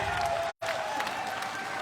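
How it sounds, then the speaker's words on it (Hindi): An audience at a Delhi business event breaks into a short burst of crowd applause, with a voice talking over the clapping. "एक बार सीट पे खड़े होकर जोरदार ताली अपने लोगों में दे पा सकते हैं।"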